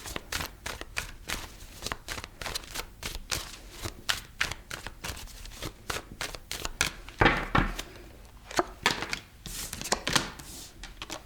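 Tarot cards being shuffled by hand, close and continuous, a dense run of quick papery riffles and slaps with a brief louder flurry partway through, with no talking.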